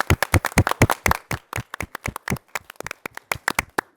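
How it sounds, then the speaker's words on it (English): Applause from a small group at a city council meeting, a brisk run of distinct, close hand claps in an uneven rhythm. The clapping thins slightly toward the end, with no talking over it. "And they deserve applause."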